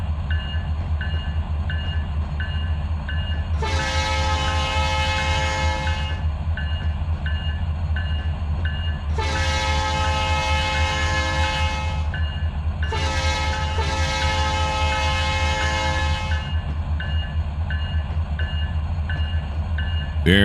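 In Trainz 2022, a train passes with a low, steady rail rumble, broken by three long blasts of a loud train horn, one after another.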